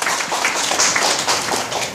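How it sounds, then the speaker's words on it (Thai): Audience applause at a mini talk show at a book fair, a short burst of scattered, fairly close clapping with a steady texture throughout. "ปรบมือให้ตัวเองหน่อยสิครับ"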